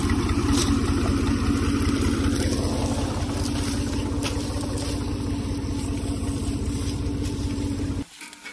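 A tractor drives a crusher, a dense steady mechanical roar with a fast rhythmic engine thrum running for about eight seconds, loud and close, before cutting off abruptly near the end.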